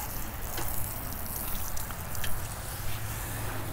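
Water flows from a garden hose fitted with a fertilizer injector, a steady broadband rushing and spraying that holds at a fairly even level throughout, with no talk over it.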